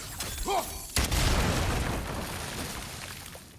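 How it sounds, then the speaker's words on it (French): A huge explosion in the video game God of War Ragnarok erupts with a sudden loud boom, then a rumbling, crackling tail that slowly fades, after a brief voice beforehand. "Tu sens l'énorme explosion là?"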